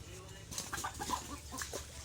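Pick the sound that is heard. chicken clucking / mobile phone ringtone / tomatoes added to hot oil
chicken clucking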